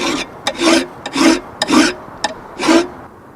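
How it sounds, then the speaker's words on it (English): A metal file rasps across a knife blade during knifemaking, with about five close, loud back-and-forth strokes in a steady rhythm separated by brief pauses. "That's the filing done."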